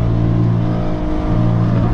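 An Audi R8 engine roars loud and steady, a deep, constant drone with no pauses.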